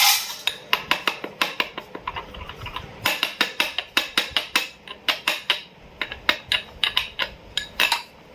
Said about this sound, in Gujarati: આપણે સૌ પ્રથમ મેન્થોલને ખાંડી નાખશું એટલે ઓગળતા વાર ન લાગે